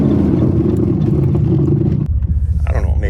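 An old van clatters and rumbles loudly while driving, with a rattle coming from the back. The engine rumble is steady, and the tone shifts partway through.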